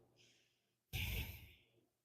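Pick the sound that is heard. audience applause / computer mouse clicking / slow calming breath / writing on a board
slow calming breath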